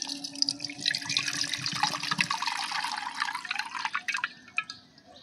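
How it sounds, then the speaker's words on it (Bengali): Green coconut water poured through a sieve into a bowl, a steady splashing trickle with scattered drips that thins out toward the end, close and alone. "এই বাটির মধ্যে আমি ছেঁকে নেব।"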